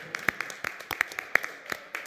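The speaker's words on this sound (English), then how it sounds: "Let's give Director Henry a round of applause." Scattered, uneven hand claps from a small group at a city council meeting, a dozen or so sharp claps over about two seconds rather than a full, dense ovation.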